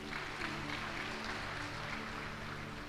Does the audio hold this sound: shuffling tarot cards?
no